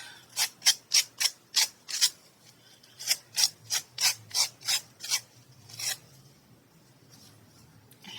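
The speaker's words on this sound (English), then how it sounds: "now I can come back in with my little sandpaper and rough those edges" Sandpaper roughs the edges of a small craft piece in two runs of quick, even rasping strokes, close and crisp, each run about six or seven rubs with short pauses between.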